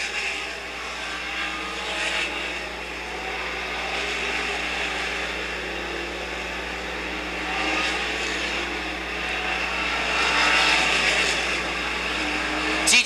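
Pro stock cars race at Monadnock Speedway in 1991, a continuous roar of engines heard from a distance as cars run side by side down the back straightaway, with a steady crowd-and-track ambience beneath.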